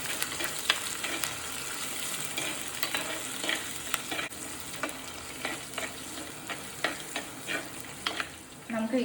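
Ginger, garlic and green chili fry in a pan for a Kerala fish curry, a steady crackling sizzle throughout with repeated scraping stirs, close and fairly loud, no talking.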